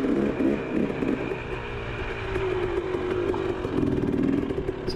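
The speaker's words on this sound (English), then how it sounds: "So Kyle, he's on his older KTM 300." Older 2017 KTM 300 two-stroke dirt bike climbing a trail at Rabbit Valley, a steady loud engine drone with rising revs and clatter, close by and continuous with no talk.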